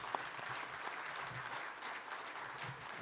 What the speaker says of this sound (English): I'd like to give everybody give Jim a big round of applause